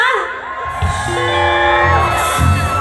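A crowd screams and cheers loudly and continuously at a flower festival in Chiang Rai, high-pitched shrieks and whoops overlapping throughout.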